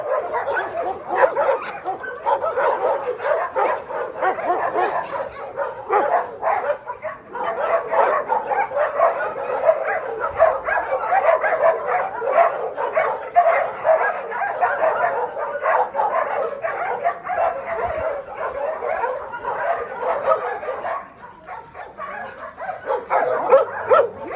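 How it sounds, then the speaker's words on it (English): Dogs up for adoption at the Humane Society shelter in Nassau, Bahamas, barking, yipping and whimpering continuously in a loud, echoing chorus of many overlapping voices. "All of these dogs are up for adoption here at the Humane Society in Nassau."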